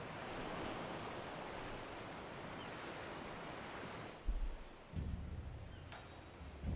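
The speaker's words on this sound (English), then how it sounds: "the crash of the waves as we drew closer to Kugani" Ocean surf washes in a steady broadband roar near the port city of Kugani on the Ruby Sea in Final Fantasy XIV, with a few heavier low thuds of breaking waves toward the end.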